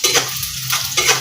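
Onion frying in a pan, a steady close sizzle with stirring scrapes rising and falling in short bursts, no talking.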